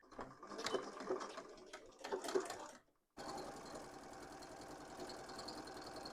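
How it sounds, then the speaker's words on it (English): A sewing machine stitches two fabric pieces together for shorts in two short, fast whirring bursts, close up, then cuts out briefly before a steady, denser machine drone takes over. "Sew them together and then overlock it and flip it out."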